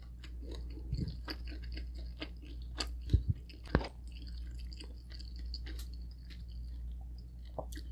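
Close, wet chewing of leftover roasted pork belly skin, soft and continuous with a few sharper crunchy bites, eaten at a Filipino breakfast with no talking.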